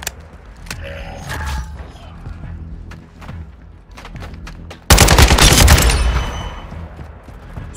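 Gunfire in Call of Duty: Modern Warfare II, with scattered shots and mechanical clicks, then a loud, dense automatic burst that rattles on for a couple of seconds before tapering off.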